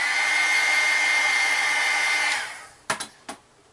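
A heat tool blows a steady, loud whoosh for over two seconds while drying stamped ink on a Valentine's Day postcard, then winds down and leaves a few short knocks.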